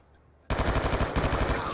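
Loud, rapid automatic gunfire from an Xbox shooter video game erupts suddenly after a short quiet moment and continues as a dense burst of shots.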